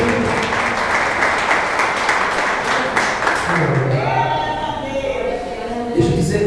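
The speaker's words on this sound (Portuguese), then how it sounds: "Você pode dar uma salva de palmas para Jesus?" A church congregation claps in a steady, full round of applause that lasts about four seconds, then fades out as a sustained tonal sound, like music or a held voice, takes over.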